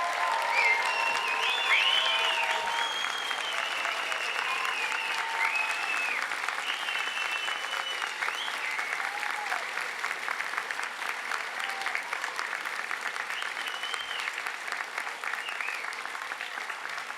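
Sustained applause and scattered cheers fill a large hall at a university Faculty of Health graduation ceremony, a dense crowd clapping steadily for the whole stretch, with whoops and shouts rising above it, strongest near the start and easing slightly later.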